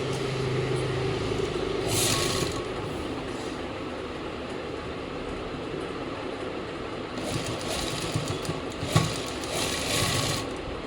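Domestic sewing machine stitching palazzo trouser fabric at home, a steady continuous mechanical whir running throughout with brief bursts of higher rattling, moderately close and without talk.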